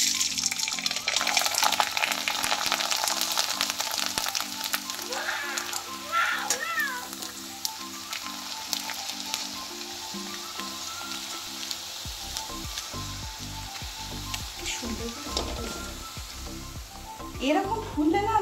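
Sago papad frying in hot oil makes a steady sizzling crackle throughout. A cat meows now and then, with faint voices and background tones underneath.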